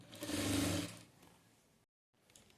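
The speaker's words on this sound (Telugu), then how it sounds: "ఆ తర్వాత దీనికి మనం ఓవర్లాక్ వేసేసుకోవాలి, ఎందుకంటే పోగులు పోకుండా ఉండడానికి" An overlock sewing machine stitches along the fabric edge of palazzo pants, whirring loudly for about a second, then slowing to a quieter hum before stopping, followed by a faint mechanical restart.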